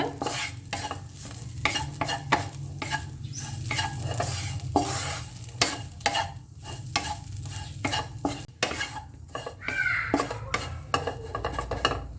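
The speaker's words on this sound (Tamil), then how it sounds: "ஓகே, சில்லி பவுடர் போட்டு வதக்கியாச்சு." Black sesame seeds and chili powder are stirred in a pan, with continuous close sizzling and frying plus repeated scraping of a utensil against the pan throughout, and no talking.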